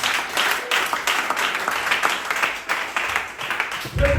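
A church congregation claps together in praise, a sustained wash of applause with a slight rise and fall over a few seconds.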